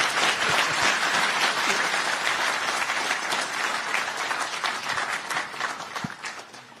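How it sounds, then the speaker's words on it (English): A big round of applause from a student audience at a live event in Texas, dense steady clapping filling the room and slowly tapering toward the end. "this needs a big,"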